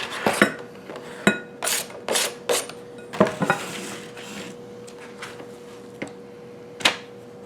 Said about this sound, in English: I'm cutting it up really thin so it sears fast.